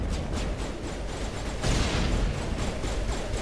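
Sustained gunfire rattles through a Mass Effect firefight, dense overlapping shots building into a louder barrage about halfway through, with no voices over it.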